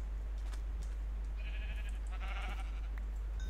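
Sheep bleat in a modded survival video game, two nasal, wavering calls over a steady low electrical hum and faint background game noise.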